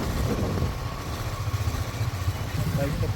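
A motorcycle idles steadily and close by while being parked near a Durga Puja pandal under construction in Kolkata, a low, even engine rumble that continues throughout under faint background noise.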